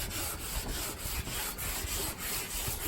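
Sandpaper scrubs back and forth across a carbon fiber car hood being restored, a close, continuous, gritty rasp with a steady stroke rhythm and no voices.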